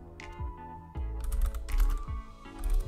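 Rapid clattering keystrokes on a computer keyboard, close and fairly loud, arriving in quick uneven bursts with no voices.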